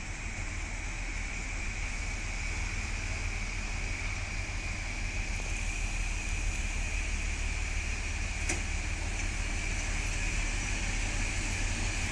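A train pulls in at a station platform in Zdice, giving a loud, steady rumble and roar that lasts throughout, with one brief click midway and no voices.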